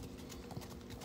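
Horse hooves clip-clop steadily while the horse pulls a cart in harness, a brief run of rhythmic steps over rumbling wheel and road noise.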